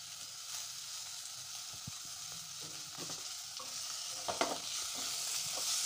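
Potato filling for Jodhpuri mirchi vada is sautéed and stirred in a pan, with a soft, steady sizzle and scattered scraping strokes of a spoon, quiet and close, with no talking.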